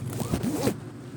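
A pencil case zipper is pulled open in one quick rasping sweep lasting under a second, close and fairly loud, then stops with no talking over it.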